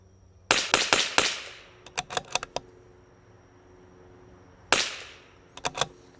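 A CZ 457 rifle fires a string of sharp, loud shots in quick bursts: a rapid cluster of four, then four more, a pause, and another closely spaced group near the end, each crack decaying fast outdoors.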